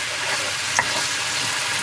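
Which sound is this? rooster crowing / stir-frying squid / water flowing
stir-frying squid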